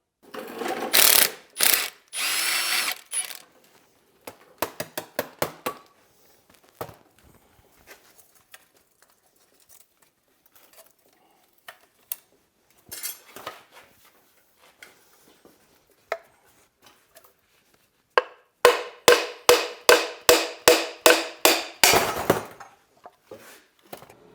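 Tools clatter and ratchet on a turbocharger being taken apart, with bursts of rapid ratcheting clicks, metallic knocks and scraping separated by quiet gaps, all close up.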